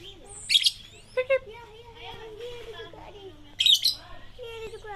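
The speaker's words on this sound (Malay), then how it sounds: "Ada burung." Birds chirp at a mountain-view villa cafe, with two bright bursts of tweeting rising over steady nearby conversation.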